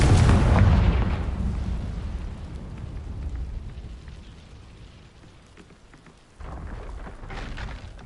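A loud burst from a Confringo fire spell in the Hogwarts Legacy video game hits at the start, then a rumbling roar slowly fades away, and a second blast swells near the end.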